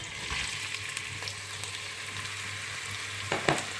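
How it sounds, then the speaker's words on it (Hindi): Chopped onions frying in hot oil in a pan for aloo matar keema, a steady close sizzle with occasional stirring scrapes and a louder clatter near the end. "और प्याज को फ्राई करना है जब तक ये हल्का ब्राउन हो जाए।"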